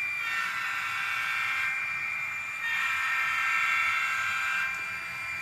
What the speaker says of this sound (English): Sounds really great. It's the horn right here.